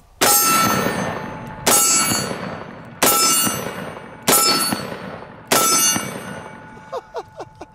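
.460 S&W Magnum snub nose revolver fired at steel targets: five loud, evenly spaced blasts, each followed by a ringing metallic clang that decays, then a few quick faint pings.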